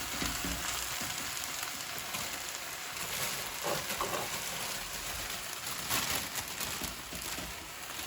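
Spinach wilting down in a hot pan for a Greek spinach and feta filo pie makes a steady, loud, continuous sizzle with faint stirring scrapes and no voices.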